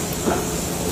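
Continuous broadband hiss of steam during the steaming stage of soybean processing in a soy factory, steady and close with a low machinery rumble underneath.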